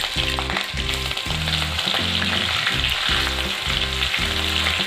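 Crushed ginger and garlic sauté in hot oil with curry leaves and green chillies, giving a steady, dense sizzle under low-pitched tonal music, with no speech.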